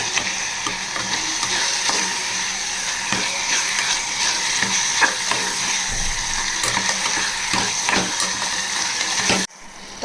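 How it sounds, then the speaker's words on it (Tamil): Tomatoes sizzling steadily in a pan for kurma while a spoon stirs and scrapes with repeated clicks, loud and continuous until it cuts off near the end. "தக்காளி நல்லா குக் ஆகுது."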